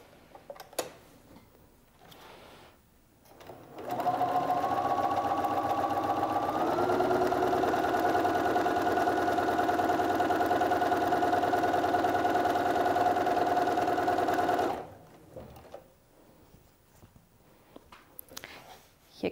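Sewing machine stitching down the edge of an open button placket, running in one continuous steady whir for about eleven seconds, with faint handling noises before and after.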